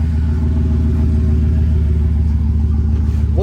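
A 2008 Chevy Silverado pickup's engine runs loud and close with a deep steady rumble, rising slightly in pitch at the very end as it starts to rev.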